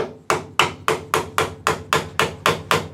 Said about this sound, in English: all we're going to do is we're just going to put this in here and start smacking it